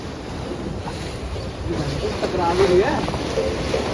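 A water rafting ride at Thorpe Park theme park rushes along with a steady wash of moving water and wind buffeting the microphone, swelling slightly midway, while voices murmur faintly.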